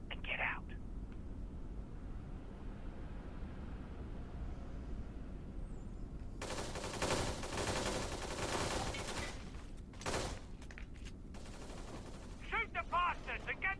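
Gunfire breaks out in the video game Kane & Lynch 2: a dense, sustained volley of shots swells midway through and then stops abruptly, with a voice heard faintly near the start and end.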